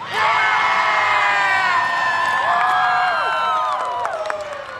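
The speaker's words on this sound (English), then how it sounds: "They continue to cheer on this Lakers team with full faith that they will come back." A loud arena crowd at a women's college ice hockey championship cheers, whoops and shouts continuously, with high excited voices layered over a steady roar that holds for the whole stretch.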